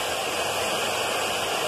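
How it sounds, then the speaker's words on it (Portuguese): A hair dryer blows steadily and loudly at close range, heating glue on a patch being applied to a simple air mattress, a continuous even roar with no pauses. "Vai ter um barulhinho, porque é do secador de cabelo, não tem jeito."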